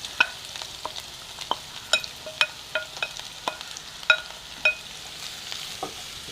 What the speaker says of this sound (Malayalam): കടുക് നന്നായിട്ട് പൊട്ടി വരുമ്പോൾ നമുക്ക് അതിലേക്ക് സവോള ചേർക്കാം.